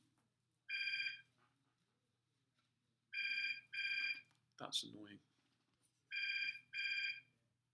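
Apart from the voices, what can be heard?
telephone ringing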